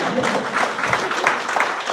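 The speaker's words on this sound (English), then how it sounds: "let's give them a hand clap for that." Short burst of clapping from a crowd at a live community talk, a dense patter of hands with voices mixed in.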